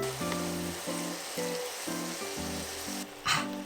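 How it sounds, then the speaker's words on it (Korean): Mushrooms stir-frying over medium heat in a pan with cooking oil, perilla oil and soy sauce, a soft steady sizzle running beneath a repeating musical backing, with a brief louder hiss near the end. "버섯을 넣고 중불에서 살살 볶아주세요"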